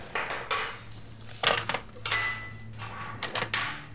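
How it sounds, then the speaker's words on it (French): Off-screen cutlery clinking against dishes, several bright metallic clinks and clatters in irregular bursts over a steady low hum, fairly close. "Des bruits de couverts hors champ pour faire exister la mer dans cette scène."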